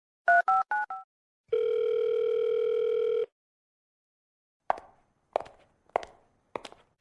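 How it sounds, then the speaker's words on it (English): A telephone rings unanswered: a short burst of ring pulses, then a long steady electronic tone, followed by sparse footsteps on a hard floor in a quiet room. "Why isn't Leo answering his phone"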